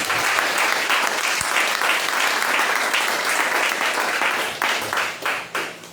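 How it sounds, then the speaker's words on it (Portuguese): A church congregation applauds during a Brazilian deliverance service, loud sustained clapping that stays dense, then breaks into separate fading bursts near the end. "Vamos a Jesus com essa de palmas"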